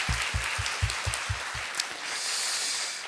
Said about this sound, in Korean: 감사의 영광의 박수 올려드립니다